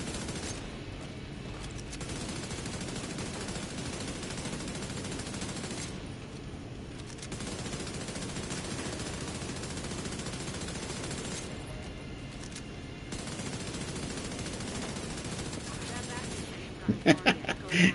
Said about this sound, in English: The turrets are shooting each other because they don't have a programmer anymore.